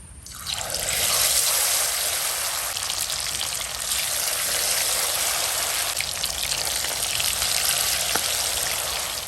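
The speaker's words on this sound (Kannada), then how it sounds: "ಇನ್ನು ಮೀನನ್ನು ಫ್ರೈ ಮಾಡುವ" Fish frying in coconut oil for a Mangalore hotel-style fish fry, a loud continuous hissing sizzle that starts abruptly and holds steady throughout, close up with no speech.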